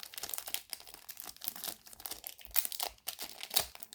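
A One Piece trading card pack wrapper being torn open, with faint close crinkling and crackling of thin foil plastic in irregular bursts, no talk.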